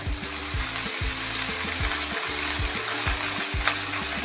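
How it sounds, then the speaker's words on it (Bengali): Potato and eggplant pieces fry in a pan for a Bengali dish, a constant close hiss of sizzling oil punctuated by regular, repeated scraping strokes of stirring. "আলু বেগুনটাও ভাজা ভাজা করে নেবো।"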